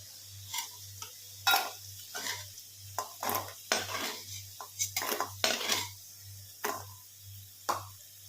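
Fried potatoes are lifted out of a wok onto a plate, a series of close metal scrapes and clinks of a utensil against the pan and dish, irregular and separated by short pauses, over a low steady hum.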